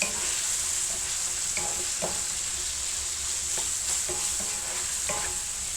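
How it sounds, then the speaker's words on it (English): A batch of meat browning in a pan for Irish stew, a steady loud sizzle close up with repeated light scrapes and clicks of stirring throughout. "Give these a stir."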